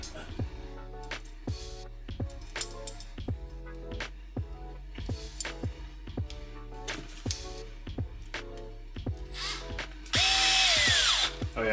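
A power drill drives screws into soft TPU in a series of short whirring bursts with ticking clicks, ending in a louder sustained whine; a voice talks under parts of it.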